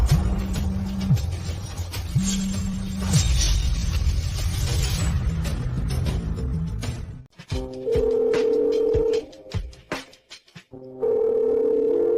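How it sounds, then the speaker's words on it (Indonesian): A telephone dialing out on a call, heard as repeated steady tone bursts alternating with a low buzzing tone and gaps of quiet, close and fairly loud with no talk. "Aku telepon dia sekarang juga."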